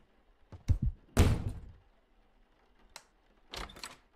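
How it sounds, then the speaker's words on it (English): An indoor door slams with several heavy, close thuds and knocks in quick succession, followed by a shorter bang a couple of seconds later, with quiet gaps between. "Violent door over there."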